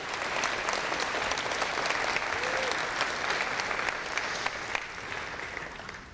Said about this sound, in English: can we stop and just give ourselves a round of applause for that good news?